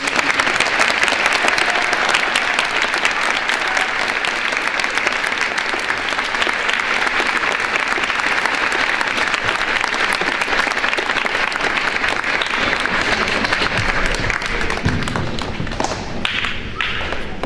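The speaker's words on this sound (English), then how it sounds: "Let's give a round of applause for our veterans." A gym audience at a high school Veterans Day program applauds its veterans, a dense, steady wash of clapping that fills the room and continues for a long stretch before thinning out near the end.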